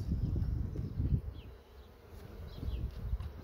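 Honey bees buzz in a dense, close swarm at the frames of a hive, a continuous hum rising and dipping slightly, with no one talking.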